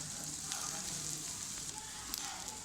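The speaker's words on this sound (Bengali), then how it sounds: "এখন ভেজে সুন্দর করে নাড়াচাড়া দিয়ে একসাথে মিক্স করতে হবে" Dal frying with onion and chili in a hot pan while being stirred, giving a steady close sizzle with faint scraping strokes, soft and continuous.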